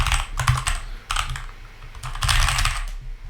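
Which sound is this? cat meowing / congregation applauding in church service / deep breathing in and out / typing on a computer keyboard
typing on a computer keyboard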